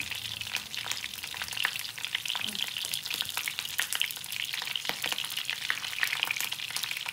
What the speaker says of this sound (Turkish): Şimdi patlıcanları kızgın yağın içerisine alıyorum ve çevire çevire patlıcanları çok fazla pişirmeden kızartıyorum.